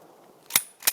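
Two sharp gunshots during a rural tree removal, a loud crack and then a second, slightly quieter crack about a third of a second later, each with a short bright tail, with no talking.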